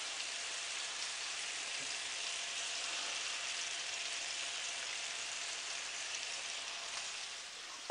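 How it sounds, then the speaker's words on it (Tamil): King fish (vanjaram) pieces coated in Indian masala frying in hot oil, a steady, dense sizzle like rain that stays even and close throughout. "ஸோ நம்ம ஃபிஷ் எல்லாமே நம்ம ஃப்ரை பண்ணியாச்சு."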